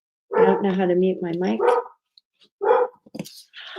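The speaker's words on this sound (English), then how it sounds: "Sorry about the dog." A pet dog barking indoors during a live online session, a run of loud close barks followed by a few more short yelps after a pause, with someone speaking in between.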